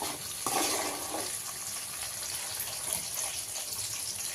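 Chopped garlic for tomato pickle fries in a pan, giving a steady close sizzle with a brief louder burst near the start, and no talk.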